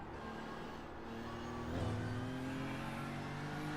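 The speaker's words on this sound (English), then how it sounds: "Normally when you hear that farting noise in this car," A race car engine at the Nürburgring rumbles steadily, then gives a rough, sputtering burble partway through, like a popping exhaust, continuing at a loud level.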